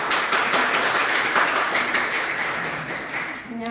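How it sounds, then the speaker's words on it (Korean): Applause from a church congregation welcoming a Sunday school teacher to the front, steady dense clapping throughout that tapers off near the end. "박수로 맞이해 주세요"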